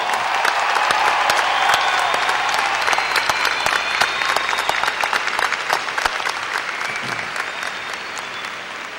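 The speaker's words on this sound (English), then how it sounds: "Give them a round of applause." A large audience at a 2016 high school graduation applauds the graduating class, with dense, sustained clapping and a few faint cheers that stay strong across the whole span.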